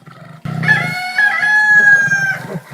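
A chicken at an animal sanctuary in Klagenfurt, Austria, gives a few low clucks and then one loud, close, drawn-out crow lasting about two seconds, with no one speaking.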